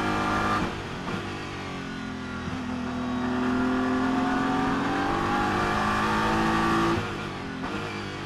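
Porsche GT race car at the 2023 Nürburgring 24 Hours, its engine loud and close, revving hard with a rising pitch through several seconds before easing off near the end, with no talk over it.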